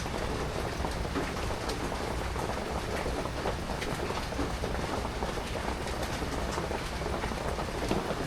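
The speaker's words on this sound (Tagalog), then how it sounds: "hindi pa rin tumitila yung ulan" Steady rain pouring down at night, a dense, even hiss of drops on surfaces that fills the whole stretch without pause, fairly loud and close, with no voices.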